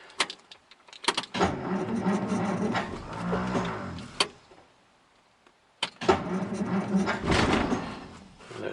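A 6-volt 1949 Dodge engine churns over on its starter with a mechanical fuel pump, cranking steadily for several seconds, pausing, then cranking again close by before catching.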